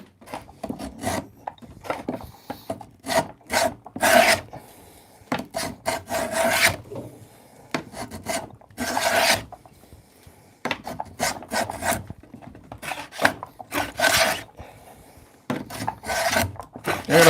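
Hand tool cutting into wood while building a pencil box: close, uneven rasping and scraping strokes in irregular bursts, some louder and sharper than others, with brief gaps between them.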